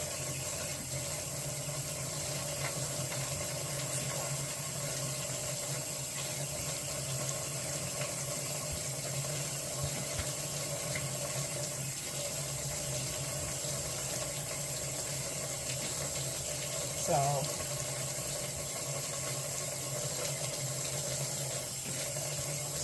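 Water runs steadily from a tap for a long stretch, a quiet, even hiss with a faint clink partway through and no talking.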